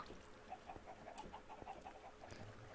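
Chickens cluck in a row of short, evenly spaced calls from a Minecraft-style building game, moderately near against a faint, busy background.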